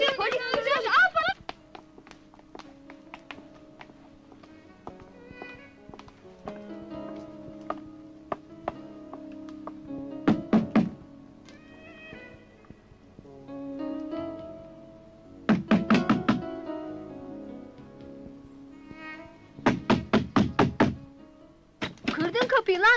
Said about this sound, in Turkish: Kırdın kapıyı lan, derdin ne?